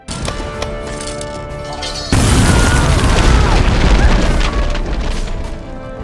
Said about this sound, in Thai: เขาได้ทำการจุดถังระเบิด